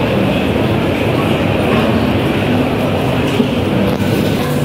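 Constant loud rumble of an MRT metro train running on rails at a station, with a steady roar and faint clatter, close by.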